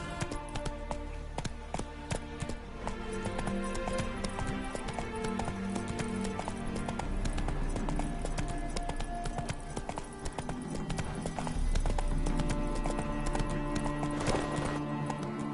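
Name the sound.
horse Roach galloping hooves, video game The Witcher 3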